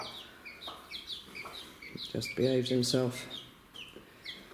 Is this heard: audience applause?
no